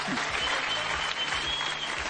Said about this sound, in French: Applaudissements pour Jean-Marc.